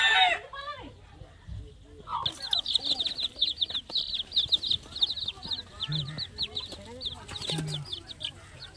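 Chickens clucking repeatedly at close to mid range in a rural yard, short busy bursts with a few wing flaps, while a person talks over them.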